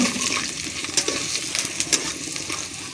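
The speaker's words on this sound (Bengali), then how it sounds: "নিয়েছি জিরে, শুকনো লঙ্কা আর তেজপাতা নিয়ে ফোড়নটা দিয়ে দেবো" Cumin, dried chili and bay leaf are tempered in hot oil, sizzling steadily and crackling close up, with stirring scrapes throughout and no talking.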